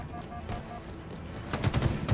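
Battle rifle gunfire in the video game Halo Infinite, a short rapid burst of sharp shots closing out a brief stretch of quieter game sound.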